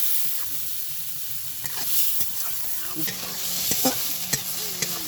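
Fish gills frying with turmeric and salt in a traditional cooking pot, a loud close hiss and crackle with stirring knocks, while a faint voice drifts in at moments.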